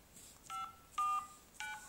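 Test tones from the loudspeaker of a Cat S60 phone under repair: three short, clear electronic beeps, each a pair of steady pitched tones like keypad dialing, evenly spaced and alone against faint background noise.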